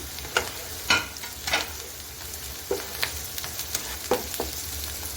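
Green chillies fry with onions in ghee, a steady close sizzle broken by scattered sharp clatters and scrapes of a spoon stirring the pan; no one speaks.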